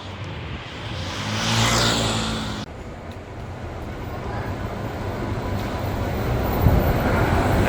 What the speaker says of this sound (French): Là, c'est un bus électrique.